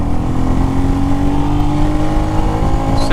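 Royal Enfield Meteor motorcycle pulling hard in first gear, close and loud, with a steady, throbbing single-cylinder exhaust note holding a rising drone for about three seconds.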